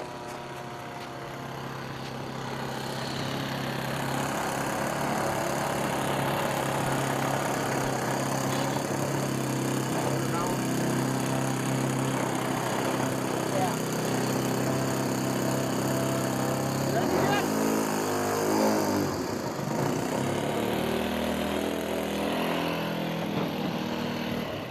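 RC model airplane engine running steadily at a fly-in, a continuous buzzing drone at moderate distance that holds level throughout.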